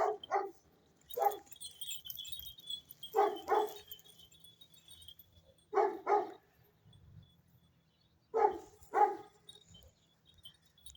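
A large dog barks in pairs of sharp woofs, four double barks spaced a few seconds apart, fairly close, with quiet background between and a faint high tone.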